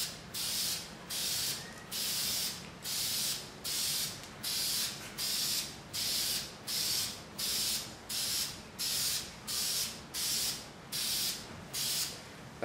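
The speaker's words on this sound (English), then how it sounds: "That's simply how I lay down a coat of paint." Spray gun painting a motocross bike frame, regular bursts of hissing spray roughly every second in a steady back-and-forth rhythm, close and clear with no talk.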